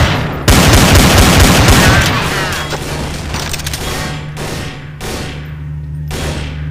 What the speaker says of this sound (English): Who was shooting at me anyway?